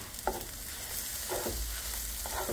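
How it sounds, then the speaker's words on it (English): Butter is stirred into eggs and ground turkey in a hot pan, giving a steady sizzle with three short scraping strokes of a utensil, close and moderately loud, with no talking. "Mixing the butter in these eggs with these eggs right now."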